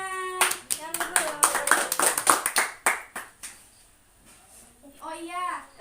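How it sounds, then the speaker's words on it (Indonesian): A class of students claps hands in a school lesson, a dense burst of many quick claps that rises and then trails off into scattered taps. Children's voices chatter before and after. "Beri tepuk tangan."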